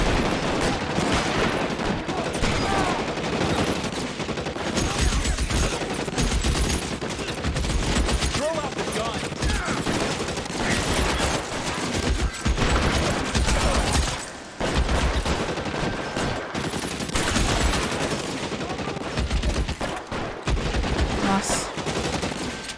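Sustained gunfire in the L.A. Noire video game, dense repeated shots and bursts running loud and continuous throughout, with a man's brief exclamation over it.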